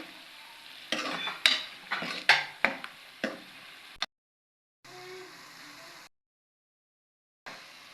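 Chicken fries with onion and garlic, sizzling in a pan while a utensil stirs and scrapes in several quick strokes, then the sound cuts out intermittently into silence.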